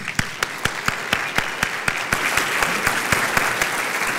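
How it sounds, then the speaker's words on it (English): An audience at a conference talk gives a loud, sustained round of applause, dense crowd clapping with one close, sharp clapper keeping a steady rhythm on top. "giant, giant round of applause for Clay Hebert"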